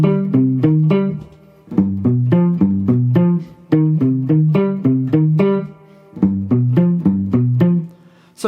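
Electric guitar in standard tuning playing the palm-muted intro riff of a song, with repeating plucked note patterns in short phrases separated by brief pauses, heard clearly and alone.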